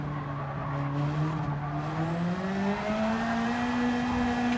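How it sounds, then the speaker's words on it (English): A Honda Civic at a boy racer night lets out a sustained tyre squeal under throttle, its pitch sliding steadily upward against a roaring engine, loud and continuous. "You can hear the tyre squealing every time he puts his foot on the throttle"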